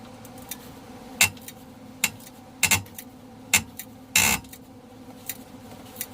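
Wrench turning a control arm bolt back and forth on a Hyundai Sonata, giving a handful of sharp, separate metallic clicks at irregular intervals with one longer rattle, close by over a low background hum.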